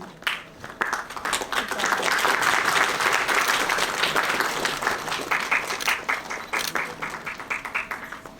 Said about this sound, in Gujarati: આપણે સર્વે માનનીય સાહેબનું સ્વાગત અત્રે તાળીઓના ગડગડાટ સાથે વધાવીશું